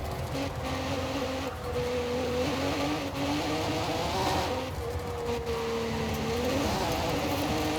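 A Cadillac lapping a track in Forza Horizon 5, its engine droning steadily and rising and falling in pitch through shifts and corners, loud and continuous.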